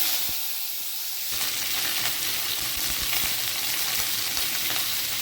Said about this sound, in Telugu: ఇప్పుడు ఇదే ఆయిల్లో మనం ఈ వంకాయలు కూడా కొద్దిగా ఫ్రై చేసుకుందాం.